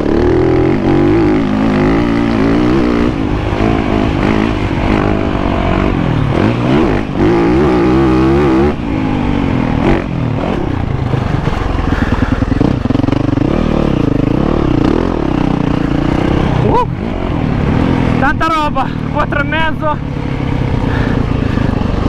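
A 2020 Yamaha 450 motocross bike runs on a dirt track at Crossodromo La Ginestra in Fermignano, its engine droning and shifting pitch loudly and steadily throughout, with a voice talking over it.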